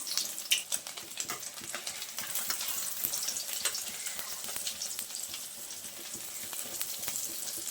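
An egg omelette with potato fries in a pan, a continuous crackling sizzle with dense small pops running the whole time, close and moderately loud with no voices.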